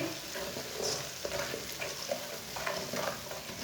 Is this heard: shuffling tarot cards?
no